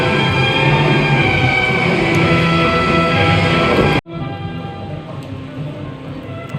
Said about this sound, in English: I'm hiding here underneath the roof because the rain is crazy.